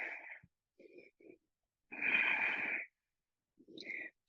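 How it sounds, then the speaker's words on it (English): Deep, audible breaths during a core workout, a few drawn-out inhales and exhales with short pauses between them, close and clear with no talking. "Deep breathing."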